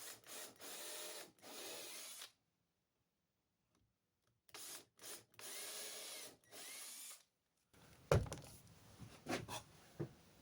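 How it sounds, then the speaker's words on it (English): A power drill with a countersink bit bores into pine wood in three bursts of whirring, with silent pauses between them, followed by rubbing and handling sounds near the end. "I'm just taking a countersink bit and just drilling straight on down"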